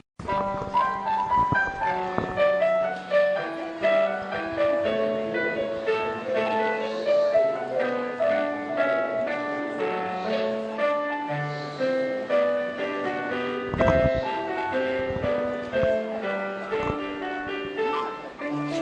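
Nora the cat plays the piano, producing scattered, irregular single notes and small clusters with no steady rhythm, heard clearly and fairly softly.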